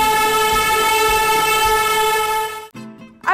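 The Darjeeling Himalayan Railway toy train sounds its horn in one long, loud, steady honk, then cuts off and is followed by a couple of short toots nearby.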